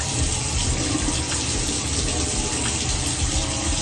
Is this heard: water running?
yes